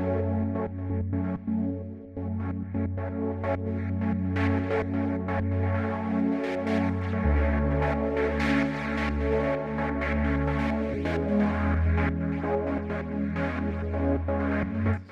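Atmosphere Whistler, an experimental atmospheric synth pad from a deep and melodic house soundbank for Diva, sustains for about fifteen seconds with a deep droning low end, shifting bass notes and a shimmering, flickering top; steady and loud, no voices.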